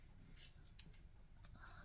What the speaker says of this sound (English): Cut the zipper.